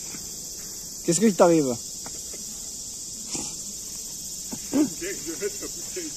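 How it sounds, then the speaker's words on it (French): Crickets chirping at night outdoors, a continuous high steady trill throughout while people talk nearby. "vous entendez les grillons chanter?"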